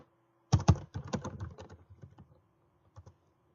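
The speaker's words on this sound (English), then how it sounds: "I can type text anywhere" Keys on a computer keyboard clatter in a quick burst of taps that thins out into scattered keystrokes, then two final taps after a pause, close and fairly crisp.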